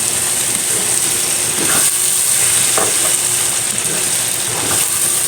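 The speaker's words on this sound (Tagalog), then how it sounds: "Pag nagisa po tayo ng alamang mga idol, igisa po talaga natin mabuti" Alamang shrimp paste sautés in a hot pan with a steady loud sizzle and hiss, punctuated by occasional scraping stirs, with no one talking.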